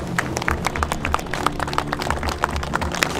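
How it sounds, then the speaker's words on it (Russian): A crowd applauds at an autumn motocross tournament for Ural sidecar motorcycles, with scattered, uneven hand claps that stay fairly close and steady and carry no voices. "аплодисменты"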